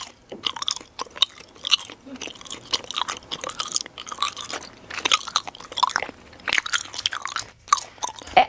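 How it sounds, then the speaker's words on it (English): Someone chewing and biting into food close up, a run of wet, crunchy mouth sounds coming in irregular bursts with brief pauses, no talking. "Are we going to talk about chewing now?"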